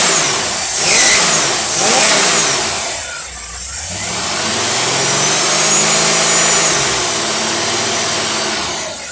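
A rebuilt Motorcraft 2150 carburetor on an engine at a dyno setup revs loud and close, climbing and falling through several throttle blips with a steady idle rumble between them.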